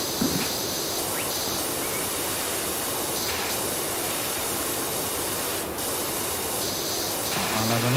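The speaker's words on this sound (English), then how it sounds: "While we're having a nose round, I'll obviously be spraying as well." A pressure washer sprays steadily in the video game PowerWash Simulator, a continuous loud hissing rush of water that carries on for the whole stretch with only slight shifts in tone.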